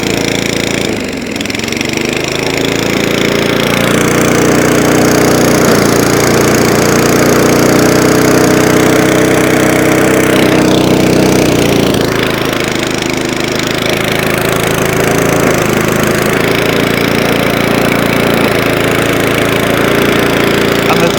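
An Atco Balmoral rear-roller lawn mower engine runs on half choke, a steady close-up idle with harmonic drone and slight rhythmic unevenness, dipping briefly near the start and shifting a little midway, continuous and loud throughout with no talking.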